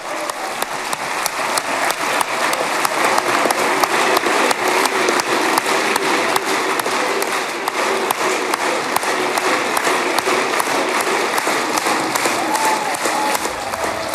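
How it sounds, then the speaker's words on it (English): Sustained, dense applause from a crowd in the Israeli Knesset greeting Benjamin Netanyahu, steady and loud throughout with no gaps, a continuous wash of many hands clapping. "the round of applause, rounds plural of applause, now reaching Benjamin Netanyahu, surrounded by loyalists in the Israeli Knesset"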